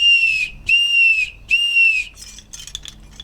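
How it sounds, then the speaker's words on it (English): An Indian whistle carved from cow horn gives three long, steady, piercing blasts, each about half a second with short gaps between, loud and close, followed by a few softer clinking sounds. "The next one comes from India, and it's made out of the horn of a cow."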